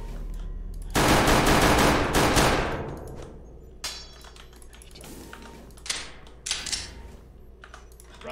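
Video game gunfire rattles out in a loud, close rapid burst lasting about two seconds, then fades to scattered single shots and short clicks over quieter background sound.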